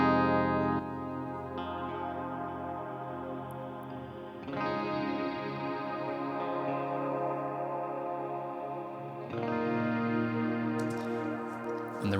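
An electric guitar, played direct into an amp simulator with a large reverb, rings out in sustained chords with a wide, spacious wash. The chords change every few seconds, loud and continuous, with no one talking.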